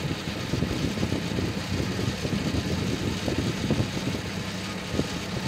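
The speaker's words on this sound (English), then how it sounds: "This is the fast idle." A 1974 Dodge Dart engine runs at fast idle after five years of sitting, a steady, close, rumbling churn with uneven, slightly rough pulses throughout and no talking.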